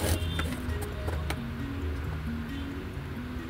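A sewing machine stitching a child's frock for a one-year-old girl runs as a steady, close mechanical whir with a low motor drone and faint rhythmic ticking throughout, and no talking.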